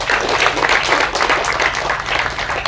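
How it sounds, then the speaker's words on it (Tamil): An audience at a Tamil film launch event claps steadily in a dense, rapid patter, loud and close, continuing without pause and with no talk over it. "தயவு செஞ்சு ஒரு கைத்தட்டல் கொடுங்க"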